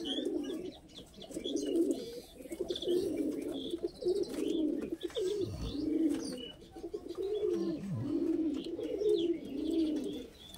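Madras pigeons coo in a steady run of repeated low, throaty calls, close and continuous, with faint higher chirps in the background.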